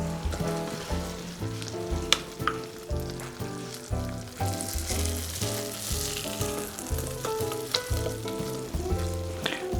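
Hot syrupy Christmas candy sizzles and bubbles as it is poured onto a baking sheet, a loud crackling hiss over background music, with no talking.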